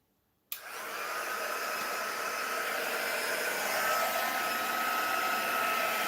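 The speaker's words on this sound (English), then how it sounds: "so embossing tool turning on" An embossing heat tool for acrylic pouring switches on abruptly and blows with a steady, loud, hair-dryer-like whoosh that continues unbroken after a moment of silence.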